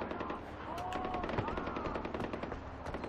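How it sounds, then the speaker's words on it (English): Steady machine-gun and rifle fire from the video game Far Cry 4, with rapid bursts of shots running continuously at moderate loudness against a busy game soundscape. "What's all this shooting for?"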